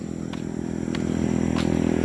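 A Mitsubishi Lancer engine rumbles at a steady low idle, growing slightly louder. A few faint clicks and clatters sound over it and no one speaks.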